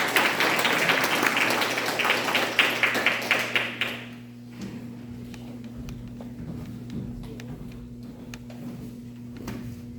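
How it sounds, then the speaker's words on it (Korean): A ceremony audience at the launch of a regional patriotic groups' federation gives a burst of rhythmic clapping for four seconds, then it fades into a quiet hall hum. "여러분 큰 박수 보내주세요"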